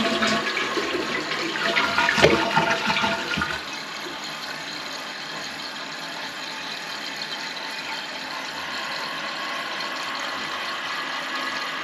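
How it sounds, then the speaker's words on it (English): A toilet gives a test flush after a float repair, a loud rushing gush for a few seconds that settles into a quieter steady hiss of the tank refilling. "Give her a test flush."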